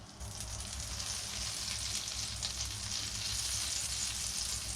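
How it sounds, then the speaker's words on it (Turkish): Butter sizzles in a heated pan, a dense, even hiss that holds steady and close throughout with no other sounds. "Tavayı biraz ısıtalım. Ve tereyağımızı koyalım. Şöyle iki tatlı kaşığı tereyağı."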